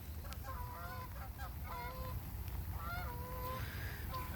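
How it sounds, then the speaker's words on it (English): A big group of geese flies overhead above a flooded field, honking in a steady run of overlapping calls with light wind behind them. "I got geese flying over,"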